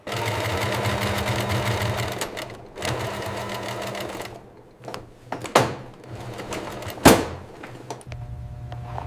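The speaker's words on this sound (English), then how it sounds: "The edge stitching of a rabbit leather bag is where the craftsmanship truly shows." A sewing machine stitches the edge of a rabbit leather handbag in a leather workshop, with steady motor runs broken by pauses, sharp clicks and a loud knock near the end.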